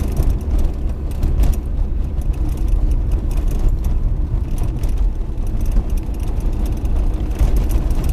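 A car drives a driving-exam route through city streets in Khmelnytskyi, with a steady low engine and road rumble from inside the cabin and no speech.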